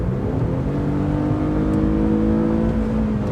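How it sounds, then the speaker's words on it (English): An Infiniti G37x coupe's engine revs under acceleration, a loud steady drone heard from inside the car and rising gradually in pitch, with no talking over it. "I just want to get on the throttle real quick again."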